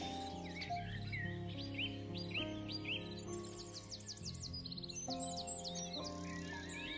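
Several birds sing in quick, overlapping chirps and trills over a steady sustained tonal drone, continuous and moderately loud.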